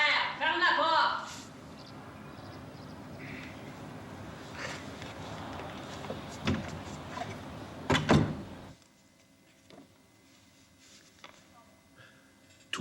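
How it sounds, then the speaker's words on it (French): A door in an animated cartoon slams shut once, loud and sharp, after a stretch of voices and background music, followed by near quiet. "Albert! Ferme la porte!"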